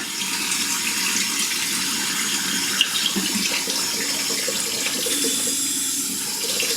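Water runs steadily from a tap, a continuous splashing rush into a sink with a faint clink partway through.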